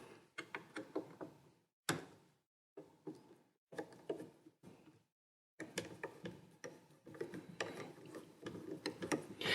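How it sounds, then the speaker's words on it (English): Rapid clicking comes from a screwdriver or small ratchet backing out the cover screws on a 1965 Fender Blackface Champ amp. It runs in several close, quiet stretches broken by short pauses. "Basically, just take these 4 screws out"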